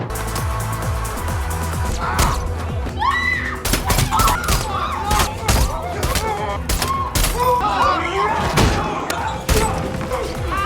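Rapid bursts of gunfire crack repeatedly over a dense, busy soundtrack with thuds and impacts, sounding like a cinematic shootout.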